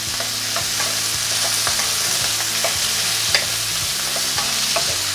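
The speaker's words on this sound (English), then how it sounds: "start to fry off all of that" Fruit and lemon frying for sweet and sour sauce, a loud, continuous sizzle with repeated stirring clinks and scrapes running throughout.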